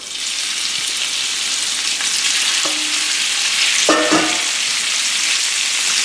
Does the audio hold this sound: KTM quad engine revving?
no